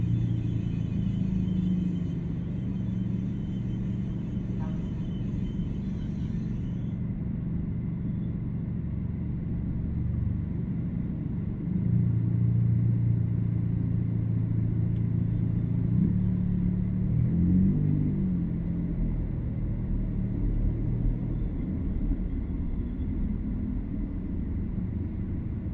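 A new Toyota Super Grandia van cruises along a road, its engine a smooth, steady low rumble with continuous road and tyre noise from inside the cabin and no voices.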